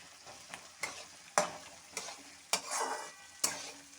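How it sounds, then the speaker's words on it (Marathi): Chana dal and garlic fry in hot oil with a soft continuous sizzle, punctuated by several sharp scraping stirs of a spoon against the pan, close and fairly quiet. "म्हणून मी पहिले डाळ फ्राय करून घेणार आहे"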